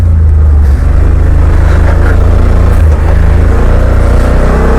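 A 2020 Yamaha Wolverine X2 XTR side-by-side drives along a trail, its engine a loud, steady, close drone with slight changes in pitch as it picks up speed.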